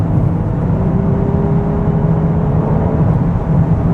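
A Volkswagen Golf R in Nürburgring mode with the shifter in S+ pulls away, its engine a steady, loud drone heard from inside the cabin with a faint rising tone and no talking.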